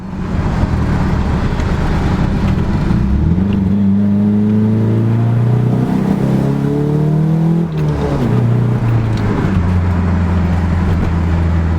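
A Nissan 240SX engine runs loud and near, revving up and down in several rising and falling sweeps before settling back to a steady idle.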